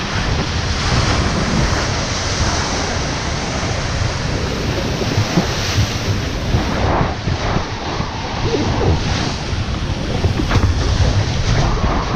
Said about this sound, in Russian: Сегодня волны здесь небольшие, около 3 метров.